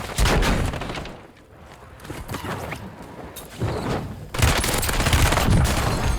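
Rapid bursts of automatic gunfire from the video game Call of Duty Warzone, loud and dense, with a short lull before heavy firing resumes in the second half.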